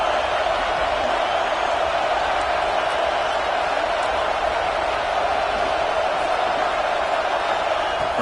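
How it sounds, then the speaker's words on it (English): A dense, steady roar from a football stadium crowd at a Georgia vs BYU game, loud and unbroken throughout as fans make noise for a red zone defensive stand. "And here comes the noise. This crowd is trying to inspire this defense to make a big red zone stop."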